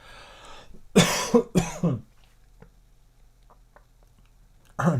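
A few harsh coughs in quick succession, close and loud, then quiet with faint rustles before another cough at the end.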